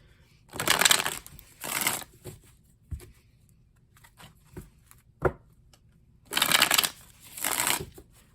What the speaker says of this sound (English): So I'll just like do like a little shuffle.